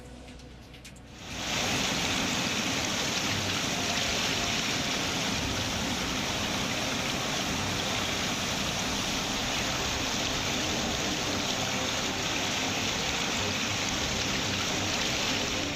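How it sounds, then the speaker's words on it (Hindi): Heavy monsoon rain and rushing floodwater in Gariaband district, Chhattisgarh, form a dense, loud, unbroken roar that surges up after a quieter first second and holds steady. "कई जिलों में भारी बरसात से बाढ़ जैसे हालात हैं।"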